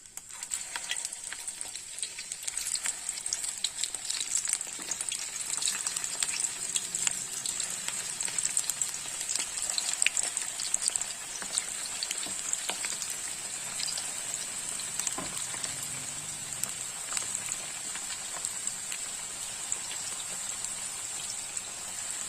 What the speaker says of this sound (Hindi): मैं डाल दूंगी ऑयल के अंदर फ्राई होने के लिए। शैलो फ्राई करेंगे हम इन्हें।